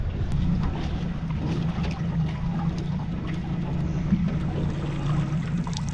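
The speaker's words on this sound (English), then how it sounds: "You guys could probably hear that my engine is squeaky again." A small crab-fishing boat's outboard engine trolling with a squeak, a continuous low droning hum with faint high chirps over steady water and wind noise.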